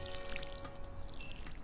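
Watering crops with a watering can in the farming game Stardew Valley: a short, soft pouring splash with faint chimes of game effects, quiet and alone.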